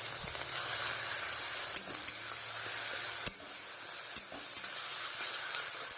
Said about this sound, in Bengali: মশলাটা একটু কষাতে থাকি